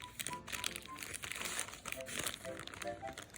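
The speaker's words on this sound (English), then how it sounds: "flip the cake onto a clean sheet of parchment paper upside down and gently peel off the original one to reveal our unicorn" Parchment paper being peeled off a baked chocolate sponge cake crinkles and rustles continuously at close range, with softer handling noises and a few faint tones in the background.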